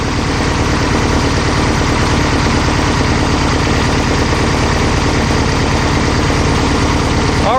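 A Volkswagen Type-3 engine fitted with dual carburetors idles steadily and loudly up close, its even low pulsing throb holding without change and with no voices.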